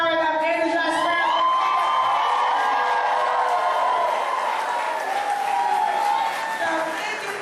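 A fired-up political rally crowd on a university campus roars with steady cheering, whoops and scattered shouts, loud and sustained throughout with no clear break.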